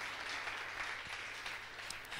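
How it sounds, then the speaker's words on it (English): A church congregation claps together as an offering in an Assemblies of God service, a continuous, fairly distant patter of many hands with a few sharper claps standing out. "A clap offering for Jesus Christ."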